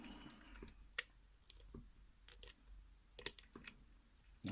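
Faint, sparse metallic clicks from picking a padlock, scattered irregular ticks with one sharper snap, close but quiet in a still room.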